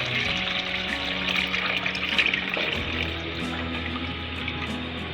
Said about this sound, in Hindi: इसमें हम इतना पानी डालेंगे जितना कि हमारा बर्तन जला हुआ है